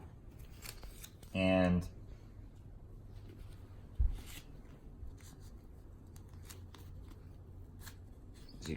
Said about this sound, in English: get a piece of surgical tape